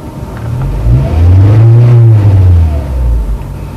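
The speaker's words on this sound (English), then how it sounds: "Revving away because you're in neutral, Joan." A car engine revs in neutral, loud and close, its pitch swelling and then falling back over a few seconds, with no talking.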